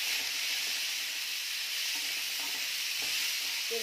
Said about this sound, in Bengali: এভাবে নাড়িয়ে চাড়িয়ে